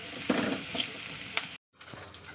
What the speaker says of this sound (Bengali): এদিকে আমার ছোটো বাবুর ডিম ভাজা হচ্ছে